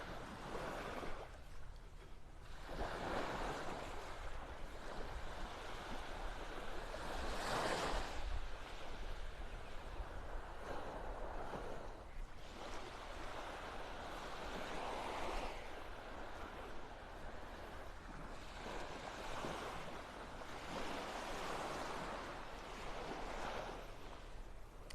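Ocean waves roll onto Vanderbilt Beach in North Naples, Florida, surging and receding in slow repeated swells under steady wind buffeting the microphone, with no voices.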